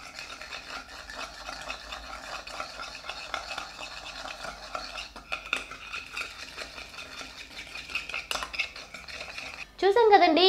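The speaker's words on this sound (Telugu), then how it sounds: "ఇప్పుడు దీన్ని చక్కగా మిక్స్ చేసుకోవాలి." A homemade wart-remedy mixture being stirred in a small container, a steady scraping and clinking of a utensil against the dish running throughout, with a louder burst of clatter near the end.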